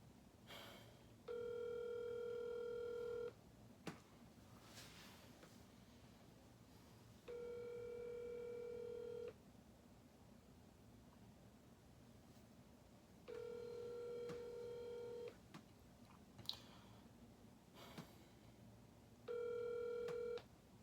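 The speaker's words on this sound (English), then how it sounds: "I'm gonna just give this number a call and see what's up here" A telephone call placed from a phone: a brief dialing burst, then four evenly spaced ringback tones sounding one after another with quiet gaps between them, clear and alone without speech.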